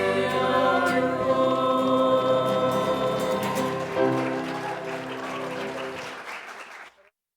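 A university chapel audience applauds a choir with dense, sustained clapping mixed with lingering sung or organ tones, the applause fading out toward the end and ending abruptly.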